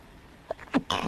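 A single close, quiet sneeze from a streamer playing Apex Legends: a couple of short breathy catches build into one sharp burst near the end.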